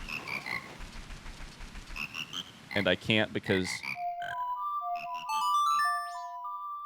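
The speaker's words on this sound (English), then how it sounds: "at this point, I'm actually trying to get away from the frogs." Cartoonish frog croaks and chiming tones from The Legend of Zelda: Majora's Mask (the Don Gero frogs) follow a man's brief speech, several short melodic calls layered closely together.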